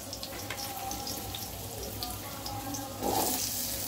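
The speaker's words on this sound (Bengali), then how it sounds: "আলুগুলোকে একটু ফ্রাই করে নিব" Potatoes fry in a pan with a soft, steady sizzle, faint and close, with a brief louder rush of water near the end.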